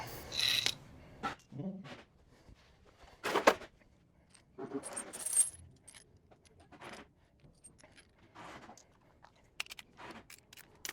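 A wrench tightens trailer hitch bolts, treated with thread locker, on a school bus conversion: short bursts of metallic ratcheting and clanking separated by pauses, close and moderately loud, with no talking.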